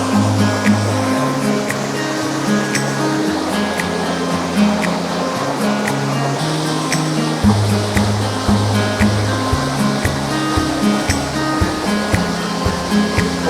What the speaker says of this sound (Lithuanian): Patiko kriokliukas. Didelė labai srovė eina.